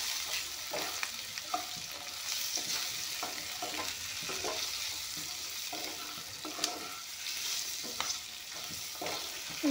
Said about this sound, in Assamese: এতিয়া কণী 3টা একেলগে ভাজি ল'ম।